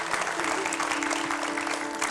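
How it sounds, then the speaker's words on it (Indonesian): Studio audience at the Metro TV election channel kick-off event clapping together in a brief, steady burst of applause, moderately loud over a low electrical hum. "Boleh kita tepuk tangan sekali lagi untuk Metro TV."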